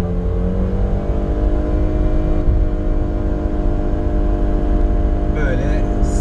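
Subaru Forester e-BOXER hybrid with a 2-litre, 150 hp boxer engine and CVT, a steady low engine drone and road rumble from inside the cabin while someone talks over it throughout.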